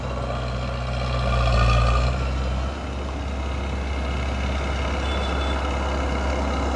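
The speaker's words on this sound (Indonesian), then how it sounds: "Truk cepet amat ya, muat ya loading" A dump truck being loaded with dredged soil by an excavator at a river dredging site, heavy diesel engine rumble steady and close throughout, swelling briefly near the start, with faint higher beeps in the background.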